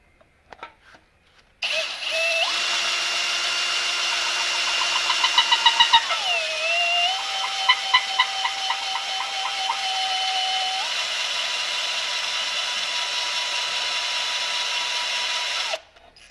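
A pilot cutting tool bores a lifter bore in a Chevy inline-six engine block, giving a steady, loud, high-pitched machining whine for about fourteen seconds, with a pitch shift partway through and a few brief chatter bursts, and no talk.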